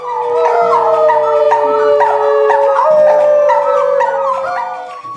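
A person gives a loud, sustained howl imitating a dog or wolf, with wavering pitch that rises and falls over about five seconds, alone and close.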